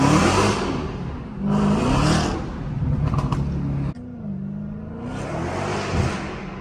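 Supercharged Dodge Hellcat accelerating hard in first gear on a downtown Houston street, a loud roaring pull that rises in pitch, breaks off for a shift, then surges again with supercharger whine.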